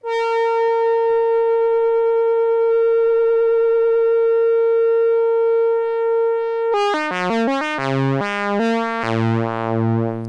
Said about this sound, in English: you can run just your LFO to modulate your pitch and your pulse width here